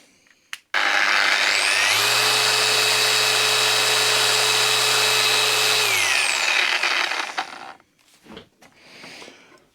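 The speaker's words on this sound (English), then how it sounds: "So I put this one here and put it on max. So let's start with the Bosch." Bosch GET 75-150 random orbital sander in gear-driven mode, run at maximum speed: a loud, steady high whine that spins up, holds evenly for several seconds, then winds down and stops, with no talking.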